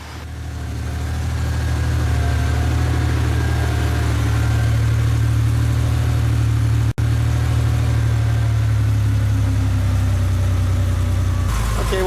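A car engine idles steadily while warming up, a loud, even low hum that holds throughout with a brief sharp click near the middle and no talk.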